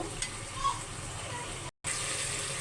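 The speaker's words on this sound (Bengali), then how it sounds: "আর এদিকেও আমার মাংসটা ভালোভাবে কষানো হচ্ছে" Beef sizzles steadily while it is braised and fried in a pan, a close continuous frying hiss broken by a brief gap of silence.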